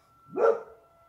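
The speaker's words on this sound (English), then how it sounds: "That's my dog barking because she hears a siren." One short dog bark, fairly close, standing out alone against a quiet background.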